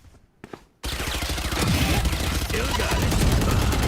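Rapid gunfire from a Bulldog rifle in a competitive video game match, loud and dense bursts running continuously after a short quieter opening, with commentators talking over the action.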